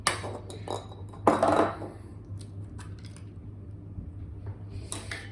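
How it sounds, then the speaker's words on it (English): Whisk clinking and scraping against a bowl as an egg is beaten into creamed butter and sugar for red velvet cake batter, with a louder burst of rapid strokes early on and quieter scraping after. "And continue to whisk, because that way it's going to become creamy"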